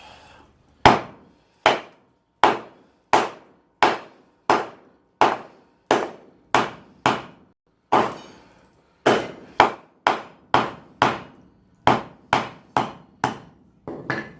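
Blacksmith hammer blows on hot steel drawn into a rough taper on an anvil set on wood over a concrete floor, about eighteen sharp ringing strikes in a steady rhythm with brief pauses.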